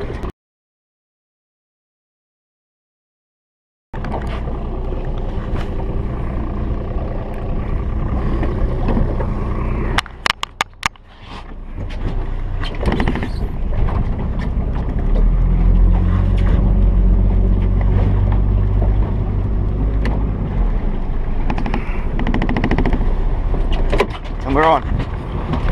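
Motorboat trolling a soft plastic squid skirt lure for Australian salmon, a steady low engine drone with wind and water rush that starts after a few seconds of silence, a brief clatter partway through, and a voice talking over it.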